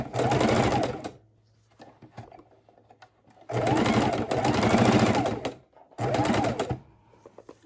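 A sewing machine stitching a fidget quilt runs in three close, loud bursts of rapid whirring, separated by short pauses filled with small clicks and handling noises.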